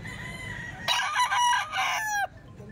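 A rooster crows once, a long strained cock-a-doodle-doo at moderate distance over a low background hum.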